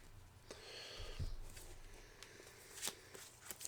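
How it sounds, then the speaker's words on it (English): A deck of playing cards is shuffled during a Sakura Arms card game, with a soft riffle and faint rustles and taps close by at low level. "And we shuffle."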